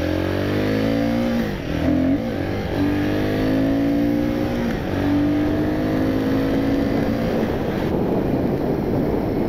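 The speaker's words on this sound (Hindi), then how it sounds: "एक बार मैं शुरुआत से उठा के दिखा देता हूँ आपको। फर्स्ट गियर से पकड़ के रखना" A Royal Enfield Guerrilla 450 motorcycle pulling away in first gear, its engine note climbing and then dropping at each gear change before it climbs again. Wind roars steadily over the microphone throughout.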